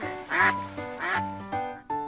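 Recorded duck quacks from an alphabet wood puzzle toy, about four bright, nasal quacks in an uneven rhythm, close and clear with nothing else heard.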